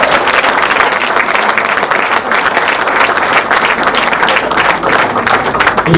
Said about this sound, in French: Applaudissez pour la première dame.